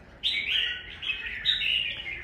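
A wild-caught red-whiskered bulbul (chào mào) sings a few bright, twisting chirped phrases up close, three short bursts in quick succession with no talking.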